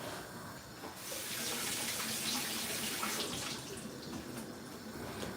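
Tap water runs steadily into a kitchen sink while onions are washed for Jamaican rice and peas with chicken, a continuous close hiss that starts abruptly and carries on throughout without talk.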